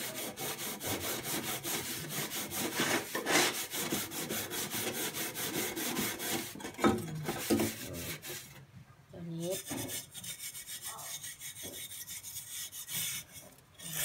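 Steady scrubbing of a gas stove with baking soda, a rough rasping rub that repeats close by and loud, with brief pauses and lighter strokes in the second half.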